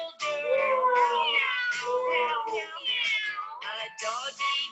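A cat meows in a run of drawn-out, tonal cries, several in succession and close up, with little pause between them; no other sounds stand out.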